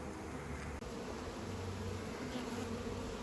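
Honey bees hum in a dense, continuous buzz around a log hive as a nuc is installed, steady and close with no voices.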